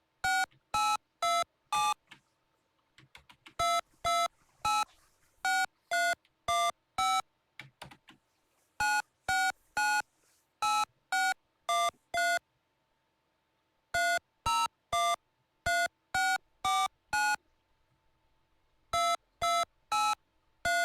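Bursts of electronic touch-tone telephone dialing beeps generated by a TI BASIC home computer program, quick strings of short tones separated by brief silences, repeating in rapid groups; clear and close, no speech.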